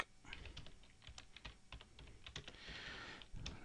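Rapid, quiet typing on a computer keyboard: a close, irregular patter of key clicks in short bursts, continuing throughout with no talking.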